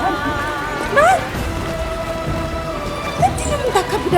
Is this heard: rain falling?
yes